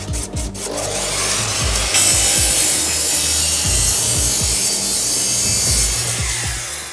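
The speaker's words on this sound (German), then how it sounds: "Ich säge in der Zeit schon mal das Holz." Hand saw cutting through wood, a steady series of rough rasping strokes in regular back-and-forth rhythm, close and fairly loud with no talking.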